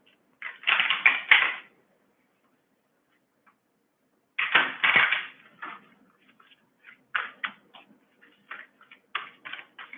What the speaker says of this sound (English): Let's give it a shuffle here.